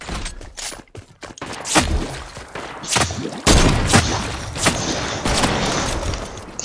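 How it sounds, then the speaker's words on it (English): Gunfire in Fortnite crackles in bursts of sharp cracks and booms, some close and loud, others fainter, spread irregularly across the moment with no speech. "None of these shots are hitting you."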